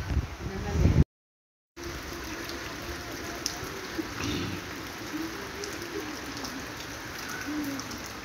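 Steady rain falling outdoors, a continuous hiss with a brief dropout, while birds such as doves coo faintly in the background and a voice briefly speaks at the start.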